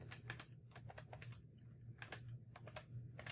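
Rapid typing on a computer keyboard while entering C++ code, a steady run of close, crisp key clicks in bursts with brief pauses, over a low constant hum.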